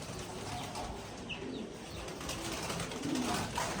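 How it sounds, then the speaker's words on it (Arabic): Pigeons kept as fancy pouter birds coo softly at a distance under a steady background hiss, with faint wing flutters mixed in. "كنصور لكم الحمام"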